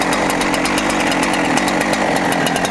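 A Holzfforma G372XP chainsaw cuts through wood close by, a loud, continuous high-revving buzz with rhythmic chain chatter throughout the short span, with no talking.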